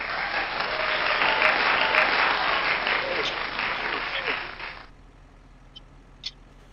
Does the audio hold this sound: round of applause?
yes